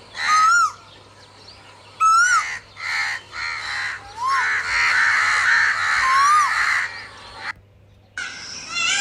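Birds call outdoors in pleasant weather, with repeated loud harsh cries and squawks in bursts, some rising and falling, fairly close, against a faint steady hum.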